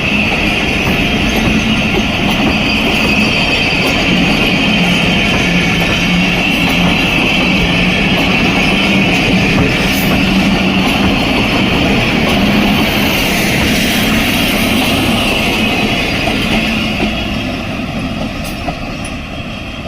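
A Hitachi locomotive hauling the Pahar Express pulls away from Fateh Jang railway station: a loud, steady diesel engine drone and rumble that holds for the whole stretch, fading slightly near the end.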